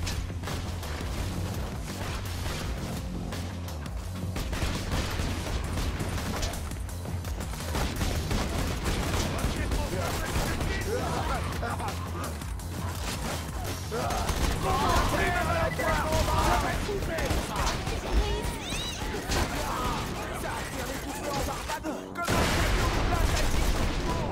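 Gunfire in the video game Borderlands 2, rapid bursts of shots and explosions rolling on continuously and loudly over mechanical game effects, with brief breaks and a sudden sharp resumption near the end.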